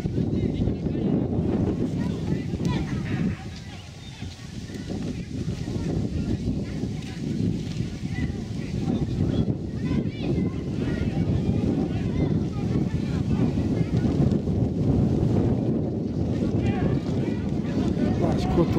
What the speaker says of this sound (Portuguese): o vento tá arrancando tudo